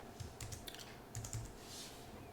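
Fingers type on a computer keyboard in short bursts of quick keystrokes with pauses between, close and fairly quiet, while entering an SSH command on a Debian 12 Xfce desktop.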